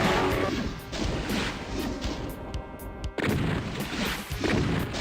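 Explosions and heavy impacts in the DOOM video game on Nintendo Switch, with repeated loud crashing booms and blasts among dense game noise, one sharp explosion near the middle.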